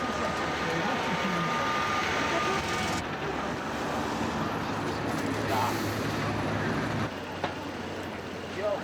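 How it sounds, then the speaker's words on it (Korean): Busy Dublin street noise: a broad, continuous rumble of yellow double-decker buses, trams and tour buses rolling past, with the wash of traffic shifting in level. "노란색 2층 버스와 트램, 관광버스가 도심 구석구석을 다니며"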